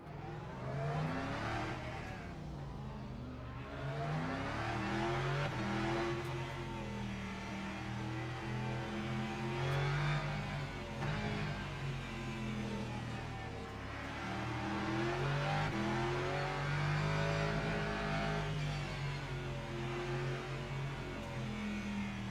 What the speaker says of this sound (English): I hear a Lambo revving